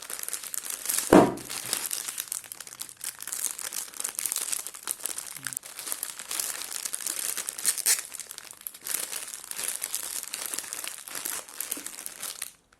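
The plastic wrapper of a coconut cream biscuit package crinkles and crackles steadily for several seconds as it is opened, with one louder rip near the start.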